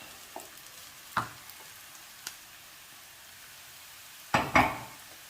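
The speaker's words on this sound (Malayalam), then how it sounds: "ഇനി ഈ തേങ്ങ ഒന്ന് ചുവക്ക വറുത്തെടുക്കണം" Grated coconut fries with shallots and curry leaves in a pan: a quiet, low sizzle broken by a few scattered scrapes and a louder pair of clattering stirs near the end.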